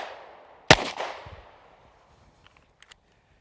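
A single loud, sharp handgun shot fired at a 3D target on a training range, decaying quickly, followed by faint small clicks and ticks.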